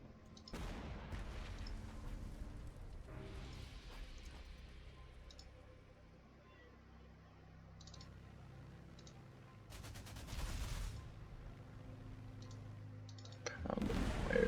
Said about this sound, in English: Maybe send this Italian tank, pound that anti-aircraft gun.